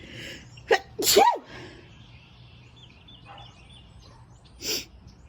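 A sharp sneeze bursts out after a quick inhale, followed a few seconds later by a softer breathy sound, against a quiet room background.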